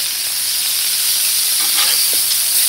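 Burgers searing on a Blackstone griddle outdoors by Whitefish Lake, a steady loud bright sizzle with faint crackles and pops throughout.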